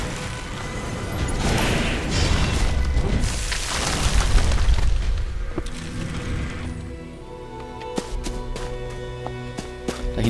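Charged shot firing in the Skyforge online action game, a deep booming blast that swells and rumbles over several seconds, followed by softer mechanical clicks and clanks, with no talk.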